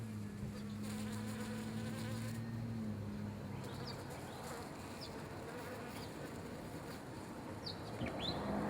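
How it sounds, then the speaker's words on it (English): Native bees swarm a plant at Port Germein, South Australia, humming in a soft, continuous drone outdoors, with a passing vehicle's low whine early on and a few faint bird chirps. "you can hear them buzzing there"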